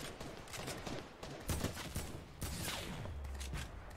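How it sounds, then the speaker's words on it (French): Gunfire in a Fortnite-style battle royale video game comes as rapid bursts of shots mixed with booming impacts, dense and continuous. "Qui nous a tiré dessus là?"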